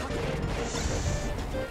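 Smash attack hits in a Super Smash Bros. Fox versus Falco match, loud crunching impacts and crashes in dense gameplay noise, with a faint voice mixed in.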